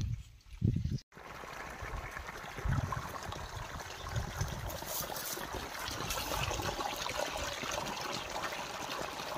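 Water gushes from the outlet of a GK 3 HP solar-powered pump, a steady, fairly quiet rushing flow that follows a brief bump and short gap at the very start, with no voices.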